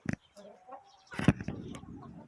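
Farm chickens cluck in short, scattered bursts, close by and fairly soft, mixed with a voice talking.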